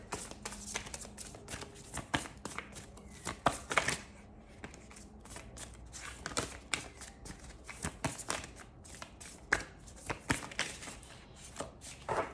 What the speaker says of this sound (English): So when I am shuffling, like whether to split the deck or whatever